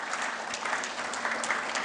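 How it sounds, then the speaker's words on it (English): Steady applause from an audience at Medical Expo 2022 in Goa, a dense wash of clapping that holds evenly throughout without any voices. "Can we give him a round of applause,"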